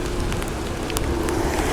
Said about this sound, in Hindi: बारिश चालू हो चुकी है, बहुत तेज़ बारिश पड़ रही है इस टाइम